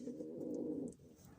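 A tumbler pigeon coos close by, a low warbling note held for most of a second before tailing off, faint and alone.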